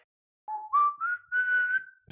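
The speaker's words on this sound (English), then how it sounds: "but if I do something like whistling" A person whistles alone at close range: a short series of sustained, steadily rising notes lasting under two seconds, ending with a brief low thump.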